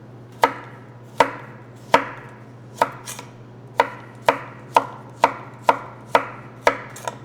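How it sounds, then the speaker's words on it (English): A knife cuts a vegetable into thin julienne strips on a cutting board, giving sharp, evenly spaced chops in a steady rhythm, about a dozen in total, close and clear over a low background hum. "now what we want to do is do a little bit of a julienne cut there"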